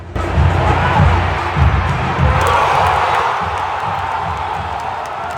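Stadium crowd roaring and cheering after a Guadalajara goal by Hormiga González, a loud, sustained wall of voices with surges of shouting near the start.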